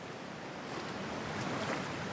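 Faint waves of toxic water wash and churn in Cyberpunk 2077, a soft, steady surf-like hiss with a slight swell near the end.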